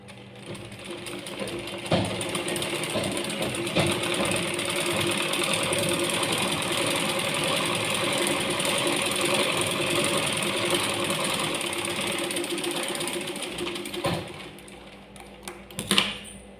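A household sewing machine runs steadily after its tension disc has been adjusted, giving a continuous mechanical whirring and rattling hum for most of the stretch, with a brief pause near the end and no speech.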